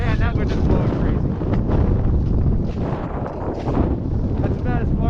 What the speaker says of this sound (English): that wind is blowing crazy